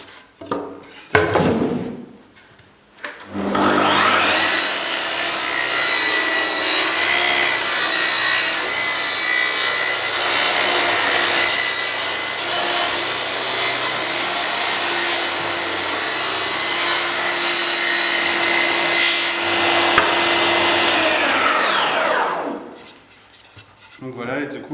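A Festool CS70EV Precisio portable table saw, fitted with a fresh blade tilted to 45 degrees, rips a board of wood. A loud, sustained cutting roar rides over the motor hum for about twenty seconds, then winds down.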